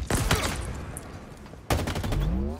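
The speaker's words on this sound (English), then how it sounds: "Who do you think you're shooting at?" Bursts of loud gunfire in the Halo video game, a rapid volley at the start and a second sharp burst about halfway through, with no voices.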